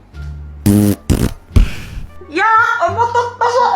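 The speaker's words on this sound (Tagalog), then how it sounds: "Umutot pa siya" A loud, wet fart bursts out in a couple of quick blasts over a quiet room, followed by people talking and laughing close by.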